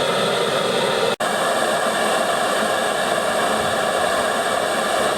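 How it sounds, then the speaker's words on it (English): Two gas blowtorches run off nearly empty tanks for firing wild clay bowls, roaring together as a loud steady broadband hiss, with one brief dropout early on and otherwise constant, no voices. "And there we are, 2 blow torches."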